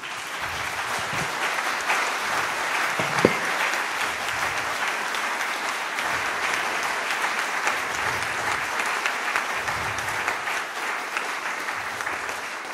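A large audience at a family-themed gathering gives the speaker Christa Meves steady, dense applause that holds evenly loud throughout with no break.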